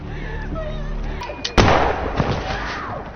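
A sharp, loud gunshot cracks out once in a film over a steady background rumble, followed by a smaller pop.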